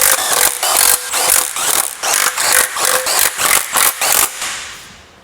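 A power tool whirs in quick repeated bursts while running down oil pan bolts on a Toyota engine, loud and close, ending in a fading spin-down.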